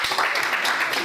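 A cultural centre audience at an author event bursts into dense, steady clapping for about a second, with a voice briefly audible over the applause.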